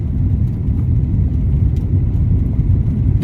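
A car engine rumbles steadily at low pitch just after a downshift during a driving lesson in a Barbie car, a continuous close, loud drone with no talk.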